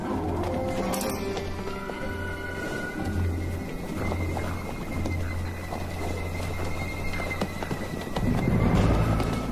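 A wild horse herd moves over open ground, hooves thudding and clip-clopping in an uneven stream, with a low steady rumble beneath and a heavier burst near the end.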